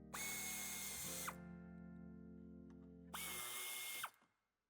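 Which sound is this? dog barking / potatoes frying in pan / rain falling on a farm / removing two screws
removing two screws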